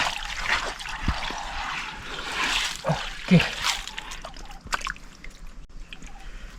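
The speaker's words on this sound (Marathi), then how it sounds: "पाणी खालून जिरून जातोय" Water trickles and splashes into a freshly dug pit in dense forest, soaking away into the ground in a close, uneven dribble with a few louder splashes and some quiet talk over it.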